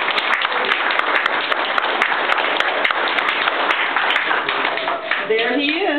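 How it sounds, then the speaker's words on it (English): Applause for a fire chief at an outdoor Breakfast with Santa event in a park: a crowd claps steadily and loudly throughout, with voices chattering underneath near the end. "let's have a little applause for Chief"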